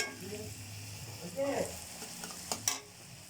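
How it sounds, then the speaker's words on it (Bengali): Crushed garlic frying in a pan in the middle of lightly browned onions for a curry leaves chicken dish, a soft continuous sizzle with a few brief scrapes and clinks near the end. "রসুনটা একটু মাঝখানে ভাজা হবে, তারপর একসাথে আবার মিক্স করবো"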